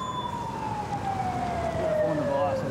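An ambulance siren arrives, its wailing tone sweeping slowly downward as the vehicle approaches and passes, moderately distant over street background with faint voices.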